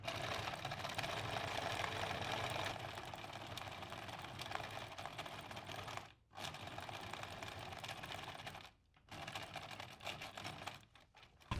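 A sewing machine stitches linen steadily at stitch length 2.5 in a continuous whirring run, pausing briefly twice before resuming, close and moderately loud with no talking.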